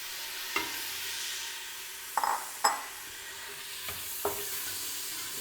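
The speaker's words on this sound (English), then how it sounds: "I'm just frying this up for a minute, less than a minute actually, and I'm going to add the tomatoes into this" Tomatoes fry for chicken mandi in a pan with a steady bright sizzle, broken by a few clinks and stirring scrapes of a utensil against the pan, close with no talk.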